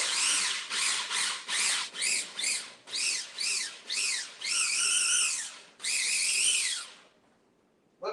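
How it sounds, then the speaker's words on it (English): Chopped zucchini is ground into a mulch for bread in a whining motorized grinder, running in about a dozen short rising-and-falling pulses followed by two longer runs, loud and close. "I cut it up, and I'm going to chop it up and grind it up so that it's sort of mulched up."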